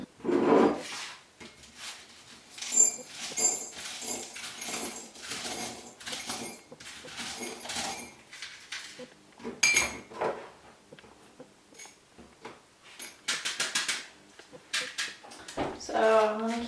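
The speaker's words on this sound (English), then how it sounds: "I'm gonna use my spoon." A spoon scooping potting soil into a plant pot, soft repeated scrapes and gritty scratches in short irregular bursts with light clinks against the pot, close and quiet, a voice speaking briefly in places.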